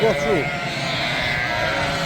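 Sheep and lambs from a flock of ewes with lambs bleat briefly at the start, loud and close, followed by continuous livestock noise and wind.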